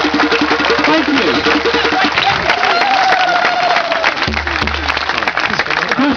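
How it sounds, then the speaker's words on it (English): Audience at a Bilderberg 2013 talk applauds itself, steady clapping running throughout under a low engine-like hum and tonal background noise, with a voice briefly audible over it. "Please give yourself all a round of applause just for being here, please."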